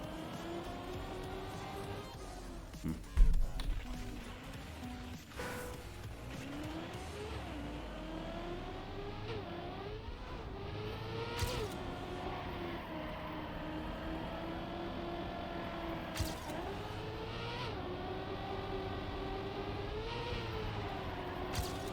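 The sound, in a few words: cars driving in Trackmania video game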